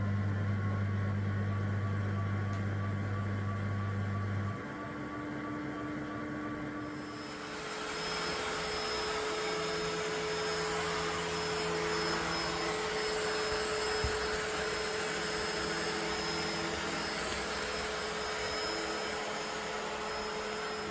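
Ecovacs T10 Omni robot vacuum mopping and vacuuming a floor, a steady loud motor whine and airy rush that holds throughout, with a brief shift in pitch early on as the mopping starts.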